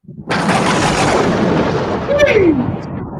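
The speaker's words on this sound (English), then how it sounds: "thunder." A thunder sound effect played on a radio broadcast rolls in with a heavy, sustained rumble for about three seconds, growing slightly louder near the end before fading.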